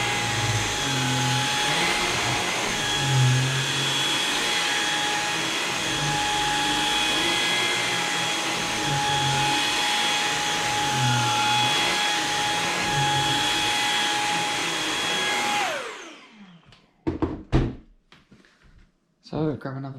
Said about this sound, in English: I'm going to hoover up the Vanish one and see if that makes any difference.